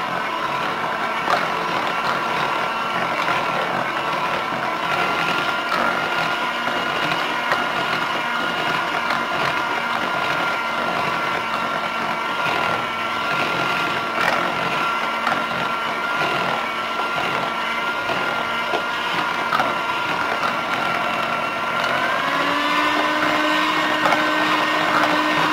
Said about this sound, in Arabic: كنضرب حتى كيطلع ليا البيض مزيان